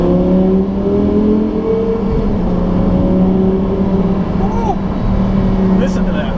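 A 2012 Audi R8 Spyder GT's V10 engine drones loud and near inside an empty tunnel, holding a steady low rumble with a rising whine near the end, while a voice talks over it.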